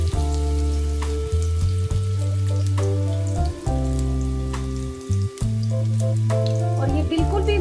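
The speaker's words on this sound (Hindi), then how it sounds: "साथ ही आपने फ्राई करते जाना है इसको।" Chappli kababs fry in a pan with a steady, crackling sizzle of hot oil, close and continuous, while a low hum with steady tones runs underneath and briefly drops out a few times.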